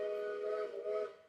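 A voice imitates a train whistle as a sound effect: one short, steady, reedy whistle-like tone lasting about a second, alone and fading at the end.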